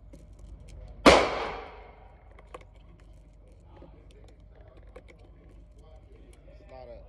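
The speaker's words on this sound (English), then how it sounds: "There's a lot of other shooting going on today" A single loud, sharp gunshot rings out at an outdoor shooting range where Glock pistols and an M4A1 rifle are being fired, its bang decaying over a moment, followed by quieter distant pops and faint background activity.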